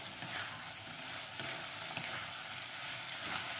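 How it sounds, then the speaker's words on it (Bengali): Pieces of fried katla fish sizzle in chilli sauce as they are stirred in a pan, a close, continuous frying hiss with a few soft scrapes and clicks of the spoon. "এবার এখানে ভেজে রাখা ফিশগুলো, মাছগুলো দিয়ে দেব, নিয়ে একটু নেড়ে ভেজে নেব।"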